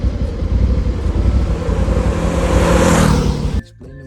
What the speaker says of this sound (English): Oh, look at these trucks.